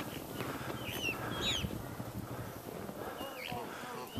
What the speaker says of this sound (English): And shell ducks and mallard ducks. Lots of Canada geese.